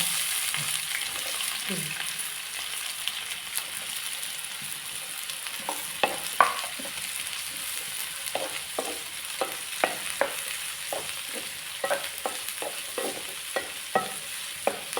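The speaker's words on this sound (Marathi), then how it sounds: "चांगलं परतन घ्या लाल होईल त्याचा कांदा लाल झालं" Chopped onion sautéing in oil in a pan, a steady soft sizzle with scattered spoon scrapes and clicks as it is stirred, close and fairly quiet, no talking.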